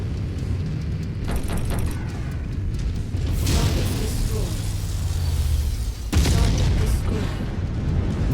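Artillery explosions in MechWarrior 5 combat, heavy low booms and bursts rolling through a loud, continuous battle din, with a sharp blast near the end and mech noise underneath.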